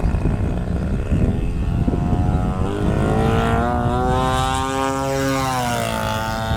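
Gas engine of a Hangar 9 Pitts S-2B 50-60cc RC biplane, loud and close, droning steadily and then shifting pitch as the throttle changes, with no voices over it.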